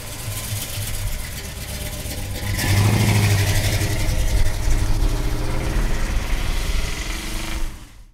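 A red 1966 Pontiac GTO with a tri-power V8 idles with a deep, lumpy rumble, then swells louder as it revs up close for several seconds before cutting off abruptly.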